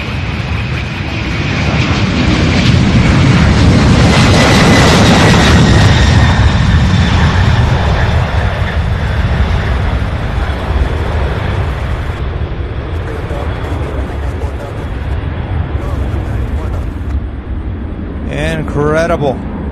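A heavy aircraft takes off at Louisville SDF airport with a loud, sustained jet engine roar that builds and then slowly fades into the distance, as a voice talks over it near the end.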